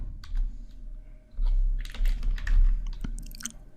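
Typing on a computer keyboard: irregular bursts of close, crisp key clicks and clatter with short pauses between runs.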